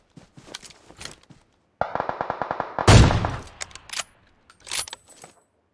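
Gunfire in the mobile battle-royale game PUBG Mobile: a quick burst of automatic shots followed by a louder blast, with scattered clicks and faint sharp cracks around it, fairly close.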